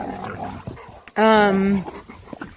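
Cane Corso dogs outdoors, with one clear, drawn-out whining yelp that rises then holds and sits close, amid light rustling and faint shuffling before and after; no bark stands out.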